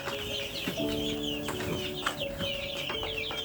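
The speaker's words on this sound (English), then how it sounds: "Looks like the chicks are happy, moving around because they were all sleeping at that corner there, feeling cold." Broiler chicks in a chicken coop warmed by a charcoal braai stand, a dense chorus of high cheeping and chirping from many birds at close range, continuous and lively.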